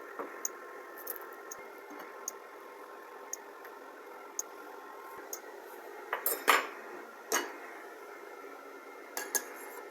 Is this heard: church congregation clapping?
no